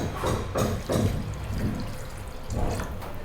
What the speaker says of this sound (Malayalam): അതിനകത്തോട്ട് കുറച്ച് ചൂടുവെള്ളം ഒഴിച്ചു കൊടുക്കാം.